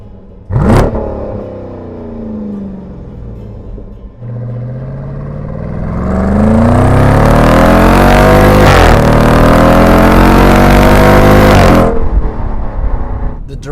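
Dodge Durango SRT V8 engine on a 2018 model barks at start-up, idles, then revs hard into a loud sustained roar before cutting back, heard up close.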